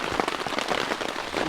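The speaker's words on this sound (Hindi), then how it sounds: "इस मस्त मस्त बारिश में" Heavy rain pours steadily at a campsite deep in a forest, a dense, close, continuous hiss of drops drumming on surfaces with no voices over it.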